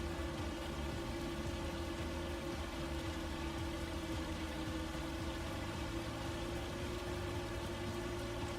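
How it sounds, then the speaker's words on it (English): Steady rain in the Farming Simulator 25 video game, a constant, dense hiss that runs unbroken and evenly loud throughout, with no voices. "Kind of wait for that rain to go down."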